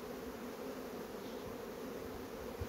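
Bees hum steadily around a full hive in an apiary, a faint continuous drone with no talking.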